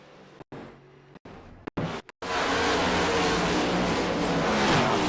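Damaged Ford Mustang Dark Horse race car in a racing video game at Charlotte: a few choppy, cut-off engine bursts, then a loud, steady engine roar that holds to the end.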